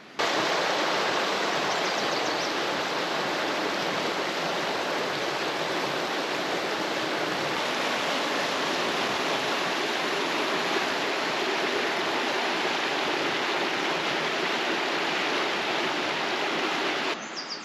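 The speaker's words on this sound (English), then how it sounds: "I'll go show you the river," A river beside a campsite near the remote Nevada ghost town of Jarbidge rushes in a steady, dense, loud wash of flowing water. It continues unbroken and close, with no voices.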